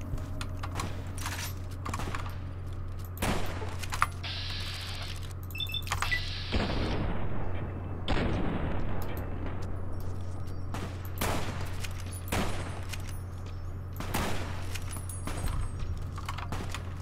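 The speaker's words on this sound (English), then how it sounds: "Come on, Boone, give me a hand shooting these guys." Fallout New Vegas shootout with a companion: a string of sharp gunshots spaced irregularly over a steady low hum, some distant and some close, mixed with faint clicking, with no talk.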